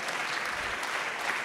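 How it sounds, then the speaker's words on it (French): Audience applause at an annual convention, a short burst of steady, even clapping from a crowd with no voices over it. "Applaudissez s'il vous plaît la magnifique équipe d'Uzbek Erika qui nous accompagnait,"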